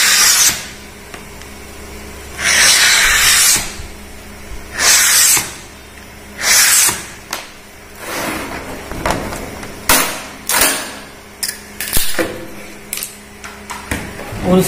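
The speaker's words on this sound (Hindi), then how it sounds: "तो इसको भी हम कटिंग कर रहे हैं," A laminate sheet for a wardrobe door is cut in repeated bursts, each a loud, harsh hissing rasp lasting about a second, separated by quieter gaps with sharp clicks and taps.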